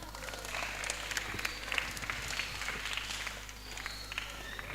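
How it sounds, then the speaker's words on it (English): A teen Sunday school class clapping, quiet scattered hand claps over a low steady hum, faint and brief with light room noise. "Clap for him."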